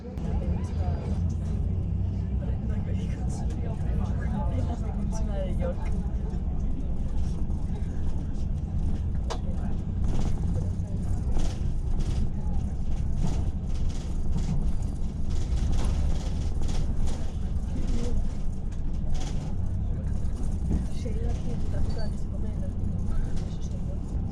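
Airport apron bus driving across the tarmac to a remote stand where a Wizz Air plane waits, with a steady low engine rumble and road noise throughout while people talk over it.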